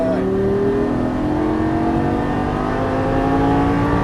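A 2013 Lamborghini Gallardo on a Las Vegas race track holds a loud, steady engine drone with a rising pitch as it accelerates, while an instructor talks over it.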